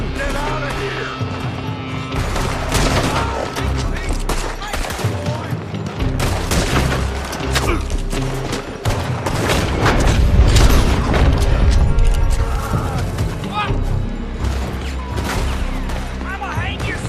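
Rapid gunfire and booming shots from a Red Dead Redemption 2 shootout fill the scene, loud and dense, with overlapping bursts and heavy impacts throughout.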